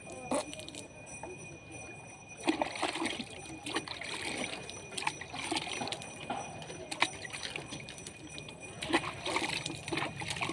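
Water splashing during a bath with hot water on a cold winter day, repeated pours and splatters landing in bursts over a steady trickling background, fairly close.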